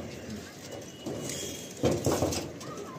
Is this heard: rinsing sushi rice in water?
no